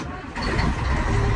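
Car engine rising in a steady drone as the driver lets the clutch out, with a voice briefly heard over it and the rumble holding loud to the end.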